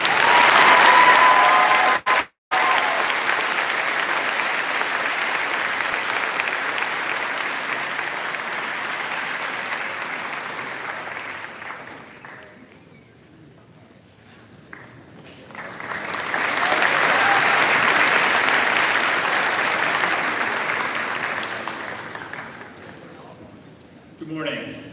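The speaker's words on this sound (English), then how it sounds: "please join me in a round of applause for Josue Jimenez Escribano" A loud, sustained round of audience applause at a high school awards ceremony, dense clapping that dips and fades midway before swelling again strongly, then tapering off near the end.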